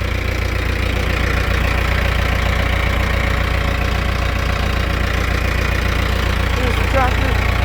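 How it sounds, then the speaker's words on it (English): A Mahindra 6025 tractor engine runs steadily at a low, throbbing idle close by, its even diesel chug continuing throughout, with someone talking over it. "I'm gonna show you the tractor real quick."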